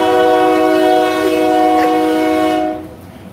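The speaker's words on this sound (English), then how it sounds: "my friendly train that goes through here is disrupting things" A train passes close by in an outdoor garden setting, its horn sounding as steady loud harmonic blasts over rumbling wheels, holding for nearly three seconds before cutting off sharply.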